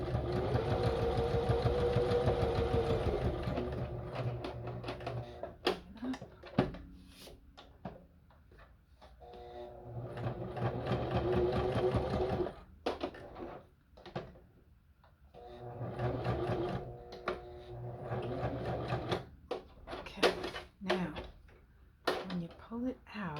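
Sewing machine stitching paper pages for a handmade junk journal, running in several bursts of steady mechanical whirring with pauses between, while someone talks over much of it.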